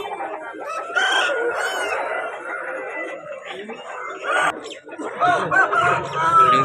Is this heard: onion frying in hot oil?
no